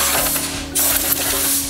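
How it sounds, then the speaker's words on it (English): Compressed air blasts debris off the head gasket surface on a 6.5L diesel engine during a rebuild, a steady loud hiss with a short interruption and a renewed burst, no talking. "we're gonna just blow it off real quick, make sure that there's no debris"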